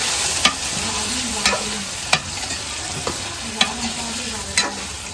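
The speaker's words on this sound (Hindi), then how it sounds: "अच्छा जी प्याज थोड़ा ब्राउन हुआ है, अदरक लहसुन का पेस्ट शामिल किया है, अभी चिकन शामिल कर रहे हैं।" Chicken sizzles in a pan with browned onion and ginger garlic paste, a steady close fry broken by sharp scrapes of a spoon stirring about once a second, with no talking.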